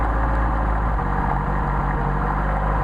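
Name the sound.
Mercedes 190SL engine idling with Solex carburetors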